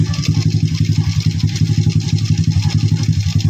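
A Honda Wave 125 motorcycle engine idles loudly and close by, with a fast, steady, throbbing putter throughout.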